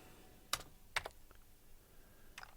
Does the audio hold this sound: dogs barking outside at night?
no